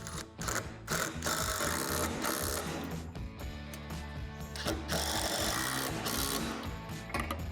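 A ratchet tightens the U-bolt hardware on the backboard bracket of a Lifetime 52-inch portable basketball system, producing repeated bursts of close, sharp clicking strokes separated by short pauses.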